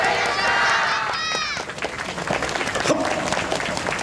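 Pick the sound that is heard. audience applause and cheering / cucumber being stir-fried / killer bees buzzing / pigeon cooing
audience applause and cheering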